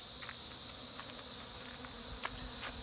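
Honey bees buzz faintly around honey frames on a farm, a soft steady insect hum holding throughout with a few brief flickers of nearby flight, no voices.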